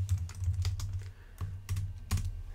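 Rapid keystrokes on a computer keyboard, clicking in quick irregular bursts with a few sharper heavier presses, close and clear with no talking.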